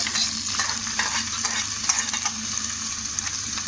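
Cashews fry in hot ghee in a pan for bottle gourd halwa, giving a steady close sizzle broken by light scraping stirs, with no voices.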